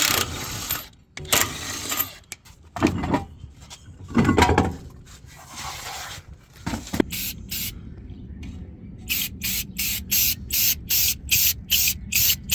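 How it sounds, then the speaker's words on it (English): Bursts of aerosol spray hiss while spraying on a car, irregular at first, then a rapid series of short even puffs toward the end, close and fairly loud. "I got it all sprayed"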